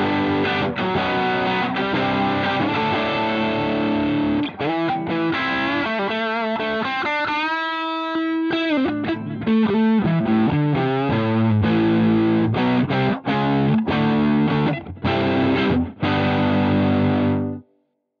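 Electric guitar driven through a ThorpyFX Gunshot overdrive with all knobs at noon, giving an open, uncompressed British crunch; a sustained stretch of chords and riffs, loud and upfront, ending abruptly.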